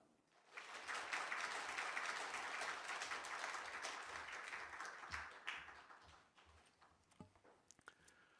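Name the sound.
congregation applause welcoming a pastor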